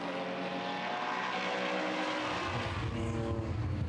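Neville Finlay's number 48 BMW Z3M coupe race car roars past at Hampton Downs in an open-class circuit race, with a loud, steady engine drone that rises and shifts in pitch as it nears and goes by.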